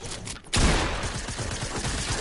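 Gunfire from a video game shotgun: after a brief quieter stretch, a loud close blast hits, then rumbling fire continues with rapid repeated shots.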